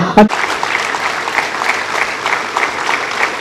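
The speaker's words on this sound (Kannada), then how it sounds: "ತುಂಬಿದ ಸಭೆ ಎದ್ದು ನಿಂತು ಕೈ ಚಪ್ಪಾಳೆಯ ಮೂಲಕ ನಾವು ಅವರನ್ನು" A standing audience applauds at a felicitation ceremony for the Mangalore University vice-chancellor, dense clapping that runs loudly throughout, after a brief clunk at the start.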